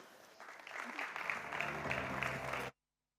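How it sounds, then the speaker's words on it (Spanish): A burst of audience applause at a round-table conference in Madrid, clapping building quickly and holding steady for a couple of seconds before cutting off abruptly. "Un aplauso para ellos."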